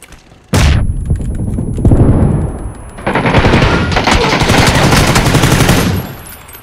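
Loud automatic gunfire in the PUBG Battlegrounds video game: one sharp shot, then long rattling bursts of rapid fire that last several seconds.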